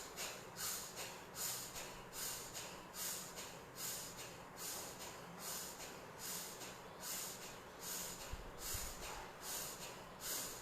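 Bhastrika yoga breathing, a series of rapid, forceful nasal breaths at a steady pumping rhythm, each exhale a sharp hiss-like rush of air, close to the microphone with no speech.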